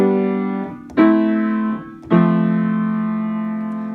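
Chords of the familiar I–V–vi–IV pop progression played in root position, heard as sustained, ringing harmonic chords changing at roughly one-second intervals, with no talking.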